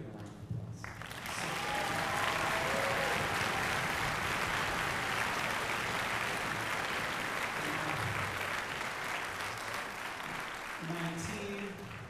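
An audience applauds at a school orchestra winter concert, with sustained loud clapping that swells quickly, holds steady for several seconds and fades near the end.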